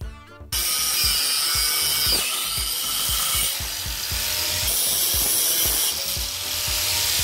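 A power tool drives screws while a scrap metal weathervane is built, giving a steady close whirring grind with short repeated knocks and pulses throughout.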